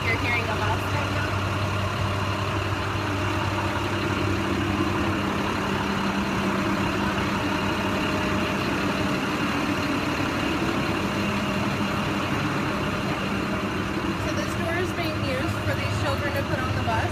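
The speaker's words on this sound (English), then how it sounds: "that's why you're hearing a bus right now" A bus engine idles with a steady low rumble nearby, continuous throughout, with faint voices in the background.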